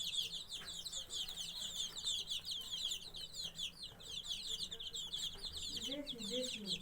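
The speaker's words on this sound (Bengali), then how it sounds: "মুরগির বাচ্চা।" A brood of young chicks peeps and clucks continuously in a dense, high-pitched chorus close by, with a voice speaking briefly near the end.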